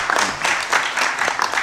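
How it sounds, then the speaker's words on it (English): An audience at an Africa Day event at United Nations headquarters gives a round of applause, a short burst of fairly loud, close clapping with a faint murmur of voices mixed in. "Can you just give him a round of applause, please?"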